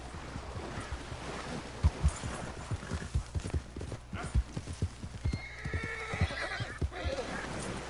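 A horse gallops in the video game Red Dead Redemption 2. Rhythmic hoofbeats clip-clop steadily throughout, with whinnies and a light wash of wind.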